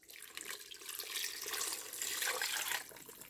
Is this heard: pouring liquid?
yes